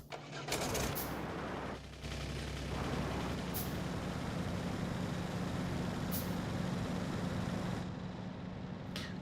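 A car driving in the modded video game Factorio (Pyanodons modpack) gives a continuous rumbling engine drone with rattly, gritty texture and a few sharp clicks, steady and moderately loud without talking.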